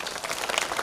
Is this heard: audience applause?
yes